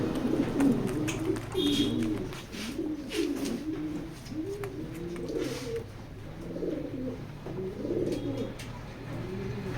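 Racing pigeons coo in repeated, soft, throaty rolls, several birds overlapping close by, with faint chirps and a light steady background.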